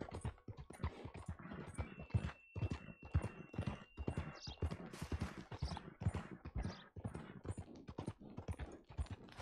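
Horse hooves galloping in the Red Dead Redemption 2 video game, a loud, steady rapid clip-clop rhythm filling the whole stretch, with a brief whinny partway through.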